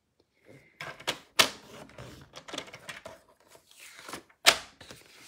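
Cardstock is scored with the blade of a Stampin' Up paper trimmer for a pop-up fan card, giving a run of close crisp scraping and clicking strokes with two sharp loud snaps, and no talk.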